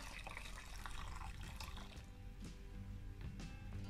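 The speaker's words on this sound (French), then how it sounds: "On met un petit coup d'eau chaude." Hot water poured over a plastic bottle fitted with a balloon, a soft continuous splashing and trickling with a few brief drips, close by and fairly quiet, no talking.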